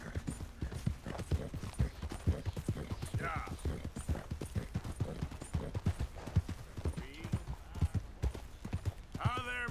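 Horse hooves clip-clop steadily in Red Dead Redemption 2, a rapid rhythmic clatter heard throughout under ongoing talk, with brief bursts of other game sounds.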